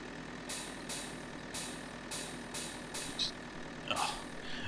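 A heavy tractor engine drones steadily in the video game Farming Simulator 2013, while sharp air-brake hisses burst out in a regular series of short blasts.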